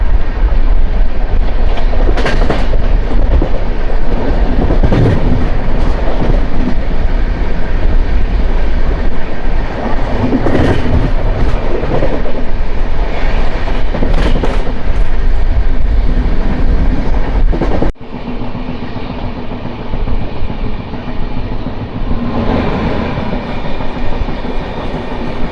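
Kacheguda–Murudeshwar express train 12789 runs through a skipped station, a loud steady roar of wheels and rattling coaches with clickety-clack beats close by, the noise dropping suddenly near the end to a quieter rumble.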